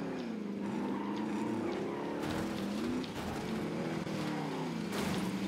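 A motorcycle engine in Call of Duty: Modern Warfare drones steadily and loudly throughout, its pitch rising and falling as the rider shifts speed.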